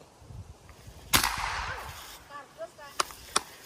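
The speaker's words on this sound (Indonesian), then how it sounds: "Just shoot at the stump." A single sharp, loud gunshot cracks outdoors at a tree stump and fades in a brief echo. A few fainter clicks of gun handling follow.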